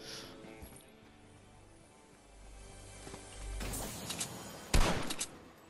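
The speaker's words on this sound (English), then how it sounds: "I keep accidentally shooting my gun" Video game gunfire: a few sharp shots and a short rattling burst stand out over quiet game ambience and low background hum, the loudest crack near the end.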